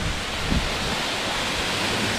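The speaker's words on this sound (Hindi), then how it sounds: "और ये है फॉल," Birthi waterfall in Pithoragarh pours down in a constant broadband roar, dense and unbroken, with no voices over it.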